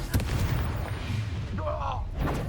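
Confringo, a fire spell, blasts in the video game Hogwarts Legacy, heard as rumbling booms and crackling impacts amid battle noise, with a whooshing sweep near the end.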